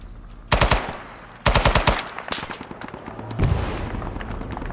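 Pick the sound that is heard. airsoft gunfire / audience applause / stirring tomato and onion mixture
airsoft gunfire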